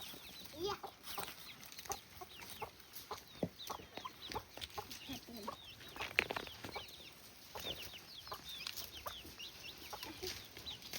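Farmyard chickens cluck and squawk continuously in a busy flock, fairly close, with scattered sharp calls and occasional wing flaps over a steady background hiss.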